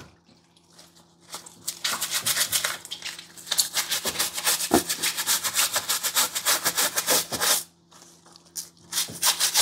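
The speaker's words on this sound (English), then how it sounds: "I just want to show you how I wash and scrub my vegetables and my fruit" A brush scrubs vegetables and fruit being prepared for juicing, making rapid, rhythmic close-up rasping strokes in long runs with brief pauses between them.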